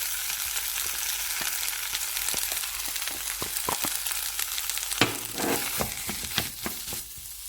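Potato being stirred into frying masala in a pan for spinach cutlets, a steady close sizzle broken by scraping spoon strokes and clinks that grow louder and more frequent toward the end.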